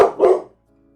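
Two quick, loud barks from pet dogs come close together, then go silent.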